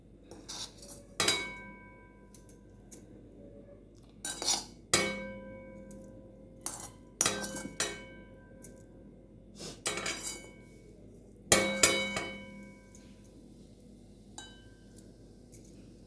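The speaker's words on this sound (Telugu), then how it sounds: "దీన్ని మనము పెరుగులో కలిపేసుకోవాలి" A spoon stirs cooled kamanchaku chutney into curd in a bowl, giving several sharp clinks and taps against the dish at irregular intervals with quieter scraping between them. No one speaks.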